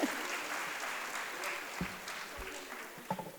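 Audience applause at a Kannada literary convention, a steady broadband wash of many hands clapping together, with a few sharper individual claps near the end.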